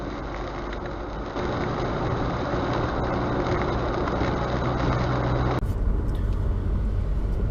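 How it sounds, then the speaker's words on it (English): A Subaru Crosstrek with a CVT held in 7th gear while climbing a grade gives a steady low engine drone with road and wind noise, continuous and fairly loud. "I'm climbing up a grade right now, 7th gear, and all I could manage is 43 miles per hour"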